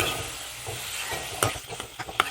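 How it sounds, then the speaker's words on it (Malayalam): Salted cooking water from boiled gooseberries is poured into a hot pan for amla pickle, giving a close, hissing sizzle with stirring scrapes and a few sharp pops and clicks, no voices. "ഉപ്പും വെള്ളം കൂടെ ഒഴിക്കുവാണേ"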